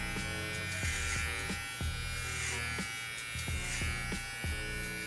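Electric hair clippers buzz steadily while working clipper-over-comb through bulky hair on the sides of a burst fade haircut, with regular short strokes pulsing through the close, constant motor drone.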